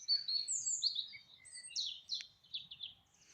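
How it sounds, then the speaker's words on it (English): Birds chirping and tweeting in quick, overlapping high calls, fairly close and steady throughout. "The sound of birds."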